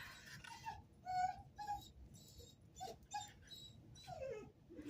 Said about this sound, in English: Oh, the puppy. She only makes that noise when one of her friends walks by, and everybody's her friend.